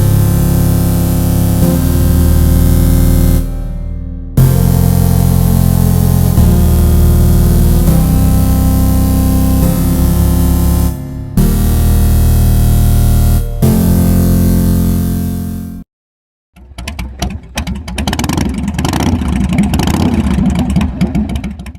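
A loud 2024 Harley-Davidson Low Rider ST motorcycle engine revs repeatedly with brief cutoffs, then drops out and returns as a rough, rumbling idle, very close.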